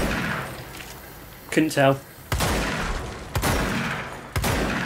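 Sharp gunshots crack in the video game Control as targets are fired at, a few separate loud blasts spaced across the moment, with a brief voice speaking between them.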